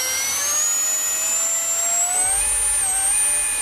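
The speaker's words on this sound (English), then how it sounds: "you got a EDF foam board jet thing" Electric ducted fan on a foam board RC jet roars with a steady high-pitched whine, its tone sliding gradually upward as the throttle rises, loud and close with no talk.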